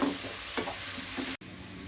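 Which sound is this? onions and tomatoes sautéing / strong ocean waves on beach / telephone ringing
onions and tomatoes sautéing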